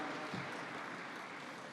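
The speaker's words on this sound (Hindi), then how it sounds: "बहुत जोरदार तालियों के साथ" Loud, dense applause fills a hall as an audience honours a guest at a ceremony; the clapping stays steady and close throughout, with no voices standing out.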